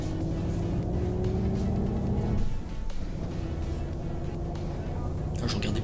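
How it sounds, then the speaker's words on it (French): Mercedes O303 bus pulling away quickly in the OMSI 2 driving simulator, its engine droning steadily and loud for several seconds with a brief dip in the middle, while a player speaks over it. "j'ai fait un démarrage plutôt rapide"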